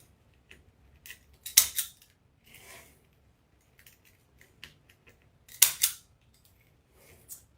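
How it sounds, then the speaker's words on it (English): Scissors snip off zip tie tails while a deco mesh patriotic rose wreath is being made, giving scattered sharp close-up clicks and snips, including two louder cuts, among quieter handling noises. "Make sure you cut your zip tie tails"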